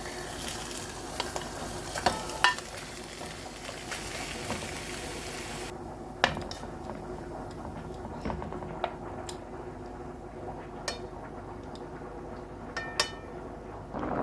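Fried steak sizzles steadily in a pan on a gas stove while the steak and veggies meal is cooked, a dense crackle with a few sharp ticks and pops scattered throughout, no talking.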